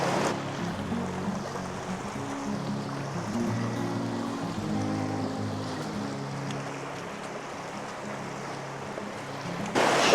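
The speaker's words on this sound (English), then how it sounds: "The water's moving swiftly here." Swift river water rushes steadily through a narrow slot canyon in Zion's Narrows, a continuous broadband wash that holds at an even level throughout with no voices.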